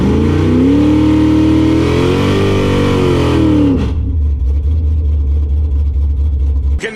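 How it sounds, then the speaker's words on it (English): A Ford F-150 pickup truck at a drag race roars loudly as it accelerates, the engine pitch sweeping up and shifting for nearly four seconds, then dropping to a lower, rumbling drone as it pulls away. "An F-150 pickup truck."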